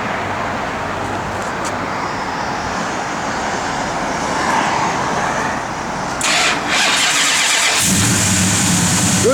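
The big 440 V8 engine of a 1969 Plymouth GTX Convertible rumbles steadily nearby at idle, loud and continuous, with a rougher surge near the end.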